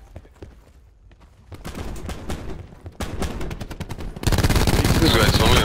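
Rapid bursts of gunfire in Call of Duty Black Ops 4, sparse at first and then building into loud, dense automatic fire, with some voices faintly underneath.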